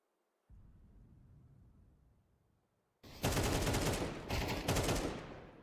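AK rifle fire in a Counter-Strike-style esports match: a faint low rumble, a brief pause, then a loud burst of rapid automatic gunshots with a short gap in the middle.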